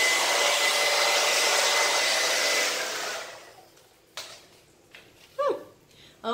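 A cheap, lightweight hair dryer blows loudly and steadily up close with a faint whine, then shuts off about halfway through, leaving quiet room sounds and a few brief voices.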